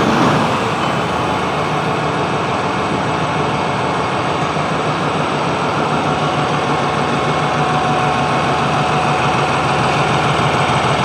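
A loud New Holland 5620 CRDI diesel tractor engine starts and runs at a steady idle, a constant throaty rumble close by with no voices.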